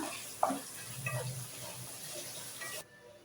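Tomatoes with salt sauté in a pan for egg biryani made with seeraga samba rice, a close, steady sizzle carrying a few soft stirring scrapes, ending abruptly after about three seconds.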